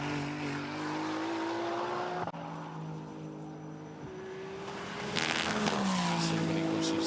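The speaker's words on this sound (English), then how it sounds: "As we watch the 88 car accelerate, Juha Turalba then for ML Fry Racing München" A Ferrari Challenge race car accelerates at Portimão during qualifying, its engine note climbing through gears with a sharp shift midway and another car roaring past near the end, loud and close.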